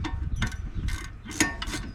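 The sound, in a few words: ratchet removing brake caliper bolts, 2014 Charger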